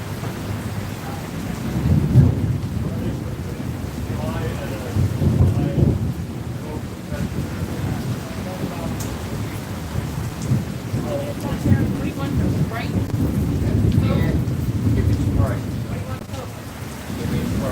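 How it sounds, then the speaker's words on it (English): Steady rain pours down in Philadelphia with a constant hiss, while low rumbling thunder rolls in the background throughout. "here comes the rain"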